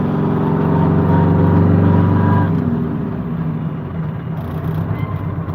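A load-hauling truck's engine drones loudly and steadily, a deep rumble that eases slightly partway through with no voices.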